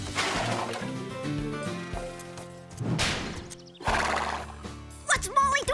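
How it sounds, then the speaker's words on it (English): Cartoon horses whinny and neigh loudly over a running clip-clop of hooves, with a bright musical score underneath and brief bursts of louder neighing near the end. "Try it while you're riding a horse."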